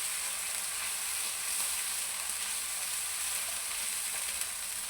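Steady, continuous sizzling of garlic and ginger frying in hot oil, a dense hiss filling the whole clip with no talking.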